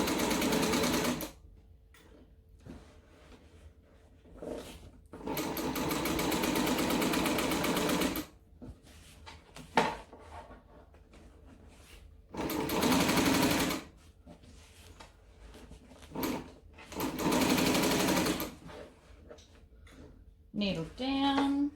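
Bursts of a sewing machine stitching a large bag, a rapid mechanical hum in several runs of a few seconds each, separated by quiet pauses with a brief click and a short tonal whine near the end.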